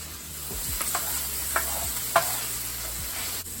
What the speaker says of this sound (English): Scallops are looking good. They're starting to brown. Just shake them up a little bit. Make sure they don't stick to the pan.